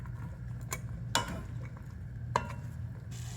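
Bread stuffing soaked with broth is stirred in a pot, giving soft wet scraping with a few sharper knocks of the utensil against the side, close and quiet.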